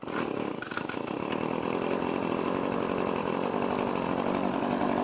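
A small lawn mower engine catches from a pull-cord start, then runs loud, close and steady with a fast, buzzing, rattling idle, and no one speaks.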